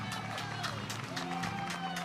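Pickleball championship crowd cheering and clapping during a timeout, a steady mix of applause and voices with a voice speaking over it.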